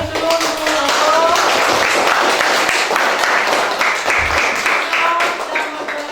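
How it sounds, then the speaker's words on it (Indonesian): A classroom audience applauding together, a brisk, close burst of many hands clapping that runs continuously for about six seconds with voices mixed in. "kita beri aplaus dulu untuk Aldo."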